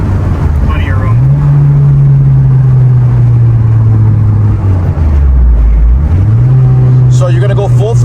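A tuned Mitsubishi Evo engine accelerating hard at full throttle, loud drone climbing in pitch to high RPM, dipping at a gear change and rising again, heard from inside the car with a voice talking over it.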